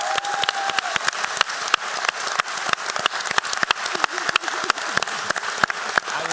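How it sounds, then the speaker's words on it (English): A conference audience applauds a panel at a Radcliffe Institute session, with steady, dense clapping that carries evenly at moderate loudness from start to finish. "So please give a round of applause to this panel."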